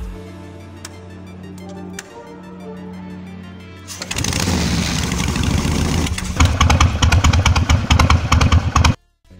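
A Harley-Davidson Shovelhead motorcycle fitted with an S&S Super E carburetor cranks and catches, then runs loud and close with a rough, uneven idle and surging revs before it cuts off abruptly. A low hum and faint clicks come before the start.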